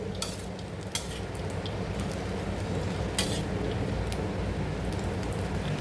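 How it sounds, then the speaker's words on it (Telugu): Sabudana khichdi is stirred in a pan over a medium flame, producing a continuous dense crackling sizzle with a few scraping strokes of the spoon, close and steady, with no voices. "బాగా మిక్స్ చేసుకోవాలి ఫ్లేమ్ మీడియం ఫ్లేమ్లో పెట్టేసుకొని ఇలా మిక్స్ చేసుకోవాలి"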